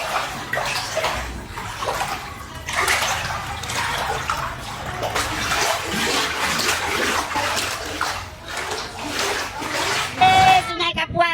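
Tidal flood water surges through Pontianak streets, rushing and splashing loudly in irregular bursts, with people talking over the noise of moving water.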